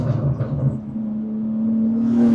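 A BMW G80 M3 pulls hard under acceleration, its engine note a steady rising drone that grows louder toward the end, heard from inside with no talking.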